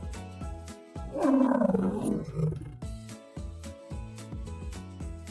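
A lion roaring, one long deep rumbling roar that swells and fades over a bouncy children's music track, loud and close.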